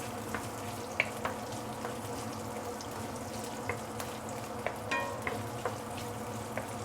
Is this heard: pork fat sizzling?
yes